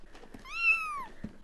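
A single clear cat meow, a gift kitten being unboxed at a birthday party, rising and falling over about half a second with faint background noise around it.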